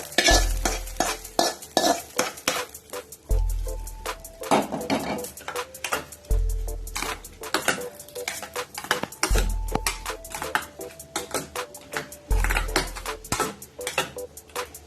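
A spoon stirs a fried tempering into cucumber yogurt pachadi in a metal pot, scraping and clinking in repeated rhythmic strokes close up, with faint sizzling and no talk.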